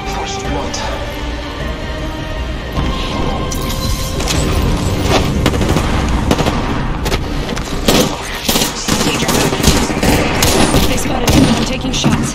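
Dense in-game gunfire and booming impacts from an Apex Legends match, with rapid shots and thuds stacking up continuously under game announcer voice lines throughout.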